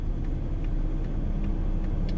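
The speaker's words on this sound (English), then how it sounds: "I'm just going to let this car past" A passing car rumbles steadily in an industrial estate, heard from inside a Volkswagen Touareg V6 TDI Black Edition, a low, loud and continuous road and engine noise with no voices.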